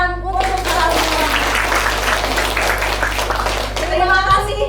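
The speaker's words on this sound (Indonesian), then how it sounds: "Tepuk tangan untuk kalian." Sustained applause from an audience honouring university students at a campus talk show, dense, even clapping that swells for several seconds and then fades out as it ends.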